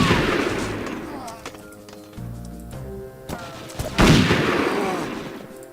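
Gunfire in the shooter game Übersoldier at a naval base, loud bursts of shots and heavy booms opening and closing a stretch of scattered single shots and clatter.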